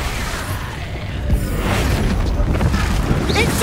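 Expulso blast spell from the Hogwarts Legacy video game: a loud, dense explosive burst with crashing debris layered over continuous game combat noise, sustained throughout with a swelling rumble.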